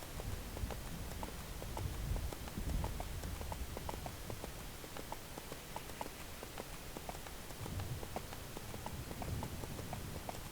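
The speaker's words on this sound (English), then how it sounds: "Oh, the sound of the hoofbeats is so nostalgic." Horse mount hoofbeats in the video game EverQuest 2, a steady clip-clop of hooves at a brisk, even rhythm, fairly close, heard alone over a soft, continuous background wash.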